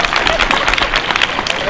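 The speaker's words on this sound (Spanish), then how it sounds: "El aplauso lo diga" Short burst of audience applause mixed with crowd chatter and voices, loud and close, with uneven clapping under the hubbub.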